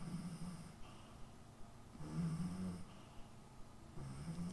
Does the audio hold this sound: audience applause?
no